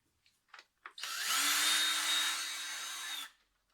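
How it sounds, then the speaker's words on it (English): A handheld power tool on a BMW N42/N46 engine spins out loosened valve cover bolts in one steady, close whir lasting about two seconds, preceded by a few faint clicks and taps. "Now I'm going to use my power tool and just quickly remove them."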